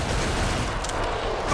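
Heavy .50 cal machine gun fire in a video game, a dense, continuous loud roar of rapid shots close by with no clear gaps, holding steady across the short burst.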